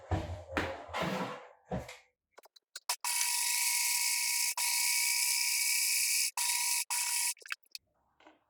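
A sewing machine stitches the end of a fabric shoulder wrap in a long continuous whirring run with a few brief stops, preceded by fabric handling and rustling nearby.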